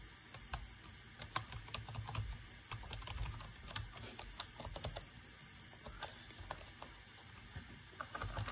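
Rapid typing on a Bugha 100% full-size computer keyboard from Five Below, crisp clustered keystrokes clicking close up in irregular bursts, with no voices.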